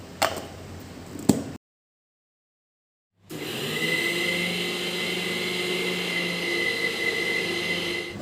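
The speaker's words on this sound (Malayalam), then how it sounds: "ഇപ്പോൾ തണുത്തതിന് ശേഷം അരച്ചെടുക്കാം." Mixer grinder grinding roasted spice masala for a village-style onion beef curry: a few clicks, a short silence, then the motor starts and whirs steadily and loudly to the end.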